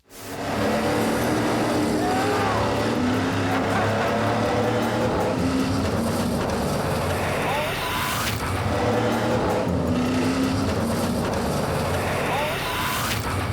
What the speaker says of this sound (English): the first time I backed the thing into the wall at the dirt track